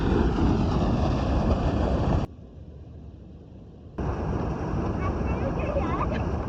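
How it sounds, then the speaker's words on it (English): Constant rushing wash of a tiny clear stream trickling over rocks beside a lake, fairly close and steady, interrupted by a brief quieter gap before resuming. "Listening to the peaceful stream bubbling over the rocks"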